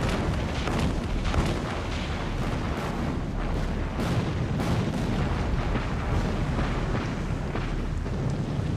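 Naval cruiser guns opening fire in a night battle: a dense, continuous roar of booming salvos and blasts, loud and rumbling throughout with no pauses.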